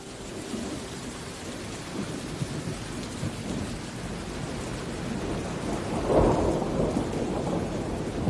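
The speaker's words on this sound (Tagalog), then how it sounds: "Ang lakas ng ulan sa labas." Heavy rain pours steadily outdoors while thunder rolls and rumbles, swelling louder toward the end, with no voices over the downpour.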